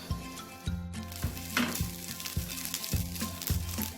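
Sliced sausage and smoked beef sizzle and fry in a nonstick pan, a steady crackling hiss broken by regular rhythmic scrapes and bumps of stirring about every half second, close and alone.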